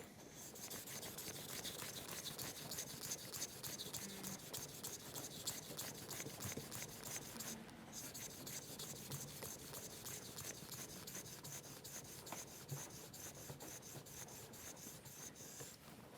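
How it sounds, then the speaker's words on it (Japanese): A Japanese plane blade is rubbed back and forth on a whetstone up to 6000 grit, giving a soft, steady, rhythmic scraping of even strokes, close and quiet, with no talk. "研いで、6000番まで研ぎました"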